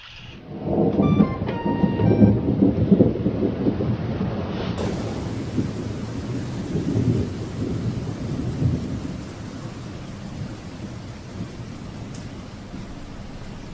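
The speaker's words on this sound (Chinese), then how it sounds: "下雨了。" Heavy rain pours steadily with low rumbling thunder rolling through, loud and close at first, then easing into a continuous wash of rainfall.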